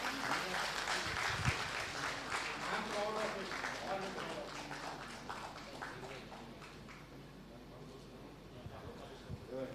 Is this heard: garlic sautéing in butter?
no